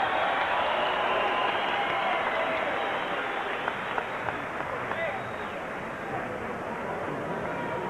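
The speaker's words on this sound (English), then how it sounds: "A round of applause, please, for this great performance tonight by Carl the Truth Williams" Arena crowd applauding and cheering after a boxing fight between Tommy Morrison and Carl "The Truth" Williams, a steady dense wash of clapping and crowd noise that holds throughout with a few sharper claps standing out.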